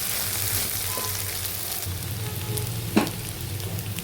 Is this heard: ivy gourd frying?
yes